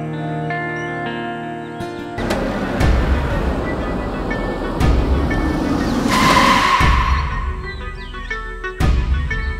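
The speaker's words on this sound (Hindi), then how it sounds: "गाड़ी क्यों बंद हो गई? पता नहीं, अपने आप ही रुक गई।" A car stalls and rolls to a stop on its own, a rough, loud rumble with scattered sharp knocks that swells and then cuts off abruptly near the end.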